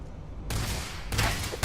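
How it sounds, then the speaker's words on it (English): Gunfire in Starfield comes as a burst of harsh, loud noise that cuts in suddenly, drops back briefly, then flares again near the end. "am I getting shot at?"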